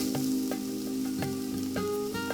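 Continuous crackling sizzle of mushrooms and vegetables frying in oil, close up, with a low hum underneath and a few soft clicks of a utensil.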